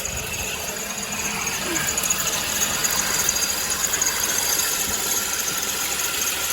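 A steady Suzuki SX4 engine idle with a faint rattling, ticking noise from a failing AC compressor clutch running through it, close and continuous.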